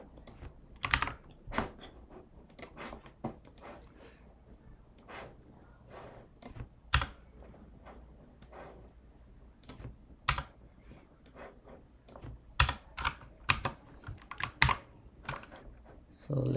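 Code is typed on a computer keyboard in quick, irregular bursts of sharp key clicks, with the odd louder keystroke. Soft speech murmurs faintly underneath.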